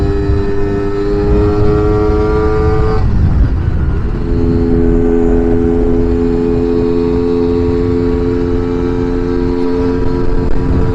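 Strong wind roars against a rider on a Lambretta scooter out on the open road, a loud, constant buffeting rush with the scooter engine's steady hum underneath and a brief shift in engine pitch partway through.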